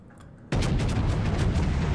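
A heavy naval gun fires in World of Warships, a single deep boom starting abruptly after a quiet moment and rolling on as a loud sustained rumble.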